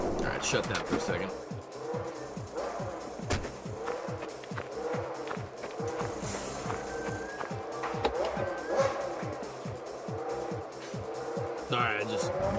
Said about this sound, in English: I just really felt like having the cars rev in the background